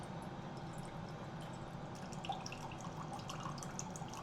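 White wine vinegar poured into a pot for sweet-and-sour onions, a faint, continuous trickling and splashing of liquid with light drips, close and quiet.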